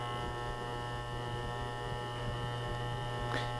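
An electric hair clipper with a guard cutting hair drones in a steady, close, buzzing hum that continues unbroken throughout, with no talking.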